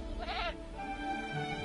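A single short bleat from a goat, close and clear, over a quiet background hum.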